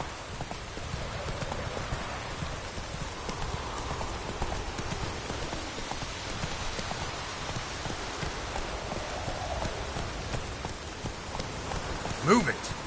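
Horse hooves clip-clop steadily at a trot in The Witcher 3, a continuous rhythmic patter mixed with rain on the ground, moderately loud throughout with a brief sharper sound near the end.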